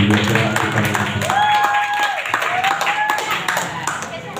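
Audience clapping in applause at a student speech competition held at an Islamic boarding school during the month of Muharram, a steady, fairly loud patter of hands with voices and other sounds over it.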